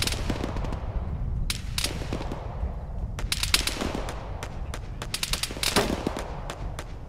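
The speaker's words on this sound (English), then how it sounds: "stop shooting at me" Scattered gunfire in the Arma military video game, with sharp, loud rifle shots cracking irregularly over a continuous rumbling background and some rapid bursts close together.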